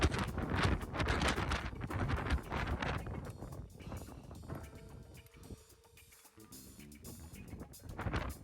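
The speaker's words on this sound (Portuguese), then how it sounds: "Com o vento agora a rondar os 70 km por hora e a temperatura nos simpáticos 3 graus negativos" Strong wind roars at the crater of Pico mountain in the Azores, about 2300 m up, gusting near 70 km/h in sub-zero cold; loud, continuous buffeting against the microphone, easing slightly midway before surging again.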